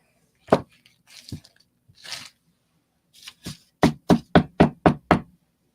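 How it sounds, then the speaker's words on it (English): Old ash being knocked out of a tobacco pipe: a few scattered taps, then six sharp, evenly spaced knocks in a rapid run, close and loud with no talking. "So I got to knock the old ash out of there."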